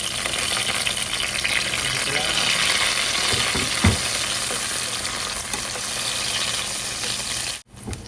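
Onion hits a hot pan already used for frying eggplant, sending up a steady, loud sizzle with brief stirring clatter; a voice talks over the frying.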